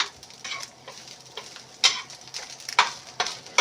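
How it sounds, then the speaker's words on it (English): Sausage browning in a pan for a baked pasta dish, with a steady close sizzle broken by irregular scraping and stirring clicks from a utensil, louder scrapes near the end, and no talking. "I'm going to finish browning up the sausage"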